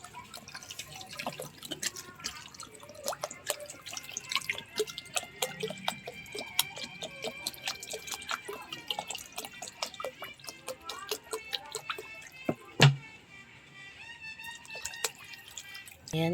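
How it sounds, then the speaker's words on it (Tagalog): Water splashes and drips into a cooking pot of sotanghon soup in irregular trickles and plops, close and moderately loud, with no talk. "maglalagay na tayo ng tubig"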